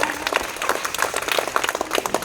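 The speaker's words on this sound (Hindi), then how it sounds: "तमाम शिक्षकों के लिए भी आप एक बार ताली बजा के उनका अभिनंदन करें" An audience at a school student award ceremony claps for the teachers, a full round of many hands slapping in quick, uneven rhythm, steady and moderately loud throughout with no voices on top.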